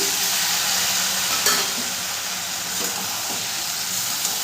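Jackfruit curry with cashew paste and a little water being stirred in a pan; a soft, continuous sizzle and hiss with faint scraping of the spoon, no talking.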